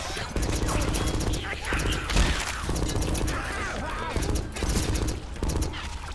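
Repeated bursts of rapid gunfire in a Left 4 Dead 2 custom map, with short clattering volleys separated by brief pauses and mechanical clicks, and a voice talking faintly underneath.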